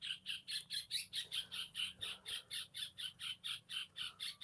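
A bird squawks repeatedly overhead in a steady, evenly spaced series of loud harsh calls near a temple, with a faint low hum underneath and no talking.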